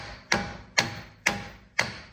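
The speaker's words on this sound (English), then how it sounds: "take the hammer and then push this out so the axle pops out" Four evenly spaced hammer taps driving out a CV axle on a Ford Edge, close, crisp metallic knocks with short decays and no talk.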